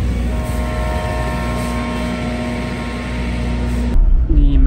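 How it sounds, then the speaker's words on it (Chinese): Local panoramic tourist train with large glass roof and side windows, bound for the small town near Machu Picchu, heard from inside as a steady loud rumble with tonal hum, ending in a sharper clatter near the end. "这个是当地建的全景火车，头上两大片玻璃，左右两边也是两大片玻璃，简称全景车厢。"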